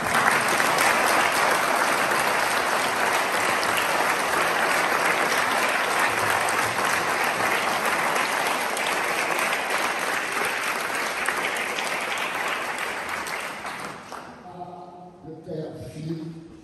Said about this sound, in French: à nouveau, des applaudissements